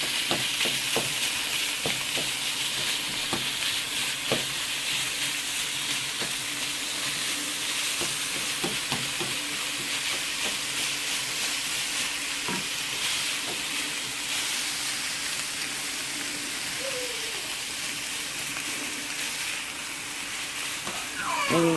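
Onions sizzling and frying in a pan while being stirred, a steady hiss with occasional scraping clicks of the utensil throughout.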